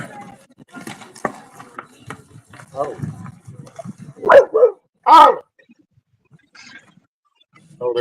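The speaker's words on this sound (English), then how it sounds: "there was a dog at the fence" A dog at the fence barks twice loudly up close amid a person's voice and scattered rustling, with a few softer yips around it.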